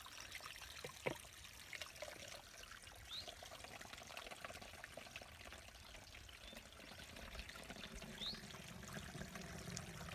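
Water trickles and pours steadily at a spring source along the Appalachian Trail in the Grayson Highlands, a soft continuous outdoor flow with faint wind and ambient hiss, no talking.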